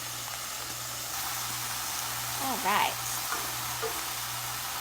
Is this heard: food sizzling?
yes